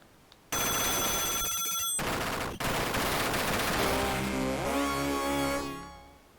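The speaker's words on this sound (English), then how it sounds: "Smart bomb." A smart bomb goes off in the side-scrolling shooter Ultracore, a loud burst of dense electronic blasts and rapid explosions followed by a descending synth sweep that fades away.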